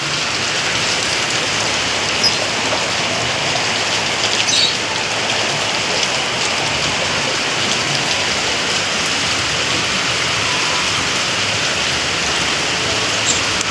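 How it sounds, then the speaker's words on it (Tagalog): Steady rain falls throughout, a constant close hiss of drops on surfaces, with no talking. "sana tumigil na ang ulan"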